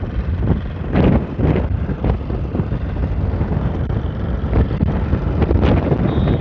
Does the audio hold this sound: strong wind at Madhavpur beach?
yes